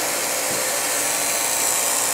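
A Revere P-90 film projector motor runs in forward during restoration, giving a steady, close, even whirring hum with no change in pitch or rhythm.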